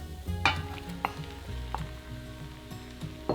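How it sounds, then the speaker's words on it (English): Beef returned to a pan with garlic and tomato puree sizzles steadily while a utensil stirs and scrapes, giving several distinct knocks against the pan over the frying hiss. "Then we want to add the beef back into the pan"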